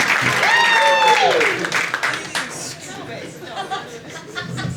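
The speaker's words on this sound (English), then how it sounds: "All right, keep that clap going, better clap on, better clap on." A comedy club audience at the Laughing Skull Lounge breaks into applause and chatter, loud at first then thinning out, while a host's voice carries over the crowd.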